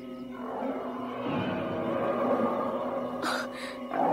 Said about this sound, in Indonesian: Oh, Restu, kau dengar suara harimau tadi?